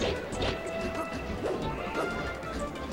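A Super Smash Bros. Melee forward smash lands in a tournament singles match, heard as a loud crashing hit within a dense, continuous wash of game sound and crowd noise, with faint voices underneath.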